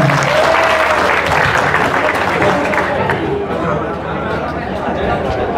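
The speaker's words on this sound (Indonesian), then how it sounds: "Oke, tepuk tangan untuk kita semua" Audience clapping at an Indonesian social media seminar, a loud, full round of applause mixed with crowd chatter that gradually thins toward the end.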